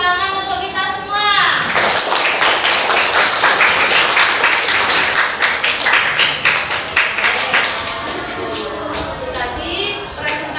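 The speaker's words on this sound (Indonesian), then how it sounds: "Tepuk tangan untuk kita semua." A school class bursts into applause after group presentations during a teaching-practice lesson, a loud burst of many hands lasting several seconds and then fading, with voices heard before and after it.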